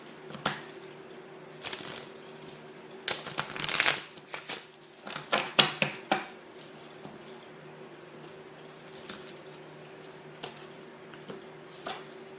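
Collective energy cards being shuffled in bursts of papery riffling and snapping, loudest near the start, then thinning to occasional soft taps over a faint steady hum.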